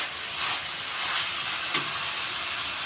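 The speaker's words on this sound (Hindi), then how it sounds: "इसको जल्दी जल्दी से चमचा हिलाकर कढ़ाई के अंदर ही फ्राई करना है" Chicken chow mein noodles are stir-fried in a wok with quick spoon stirring, producing a continuous loud frying hiss with one brief sharp clatter partway through.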